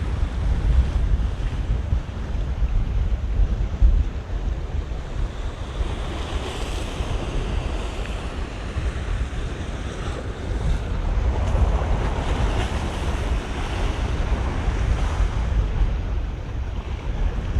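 Continuous ocean surf and steady wind at Crane Beach, Barbados, with waves washing in a broad, roaring wash and wind buffeting the microphone throughout, no voices.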